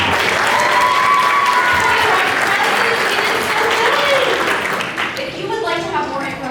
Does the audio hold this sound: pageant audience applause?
yes